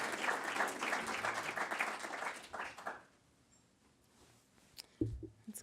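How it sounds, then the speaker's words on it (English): Audience applause for a speaker at a public health talk, a few seconds of moderate clapping from a small group that stops abruptly, followed by quiet and a brief low voice. "Let's do a round of applause"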